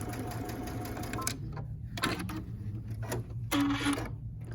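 A sewing machine stitching quilt block seams at slow speed, running as a steady close mechanical whir with a continuous low hum and brief bursts of rapid needle clatter.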